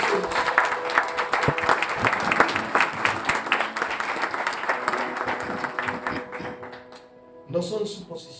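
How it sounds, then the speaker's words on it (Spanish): A church congregation applauds loudly during a Pentecostal service, a busy wash of clapping that runs for several seconds before thinning out, with a brief swell near the end. "Dale ese aplauso fuerte a Jesús."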